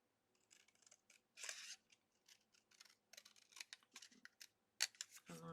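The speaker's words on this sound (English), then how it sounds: "I'm going to get my long scissors to do the trimming" Long scissors trimming paper for a scrapbook layout, a series of short crisp snips and slides in irregular rhythm, close and fairly quiet, with a louder burst of cutting near the end.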